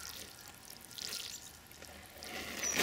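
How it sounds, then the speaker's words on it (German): Water trickles and splashes softly from a small watering can onto freshly sown soil in a shallow baking dish, faint and close, swelling slightly toward the end. "gießen wir das Ganze vorsichtig an. Und dafür nehmen wir uns nach Möglichkeit eine kleine Gießkanne"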